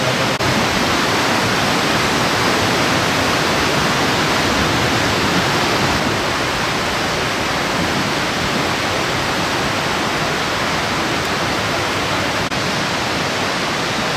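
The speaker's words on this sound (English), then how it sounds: "Cute little waterfall." A small waterfall in the Aare Gorge in Switzerland roars with a loud, steady rush of falling water, dense and unbroken throughout with no talk.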